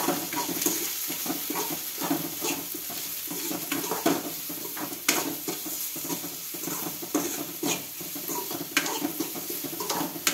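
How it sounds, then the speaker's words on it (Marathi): Cleaned mushrooms sizzle and fry in a pan while being stirred, a steady crackling hiss broken by repeated scraping and clinking of a spoon against the pan, close and continuous. "यामध्ये आपण साफ केलेले आपले अळंबी घालतोय."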